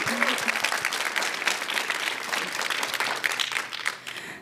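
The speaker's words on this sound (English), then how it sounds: "let's give Olga a round of applause." A round of applause fills an end-of-program startup showcase hall, a dense, lively wash of clapping hands from the crowd, with a brief tone at the start before it gradually thins out at the close.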